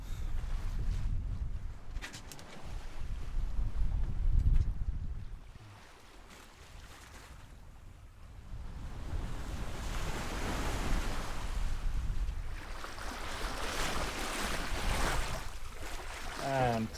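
Strong wind at sea aboard a sailboat, gusting roar and wash of waves against the hull, swelling and easing over time, with a brief lull midway before building again.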